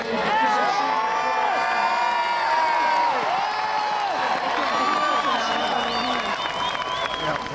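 A large crowd at a 1996 presidential rally for Bill Clinton in Springfield, Massachusetts cheers and whoops steadily, with shouts and applause blending into a continuous roar.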